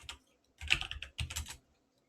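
Keys tapped on a computer keyboard while entering a passphrase for file encryption: a short burst, a pause, then two clustered runs of quick clicks, close and fairly quiet, with no talking.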